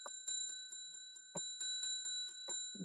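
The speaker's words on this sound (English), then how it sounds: "She dang the bell." A small bell is struck about a dozen times in an even rhythm, each bright ding ringing on and overlapping the next, close and clear with no voices.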